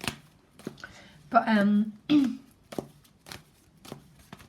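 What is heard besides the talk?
shuffling tarot cards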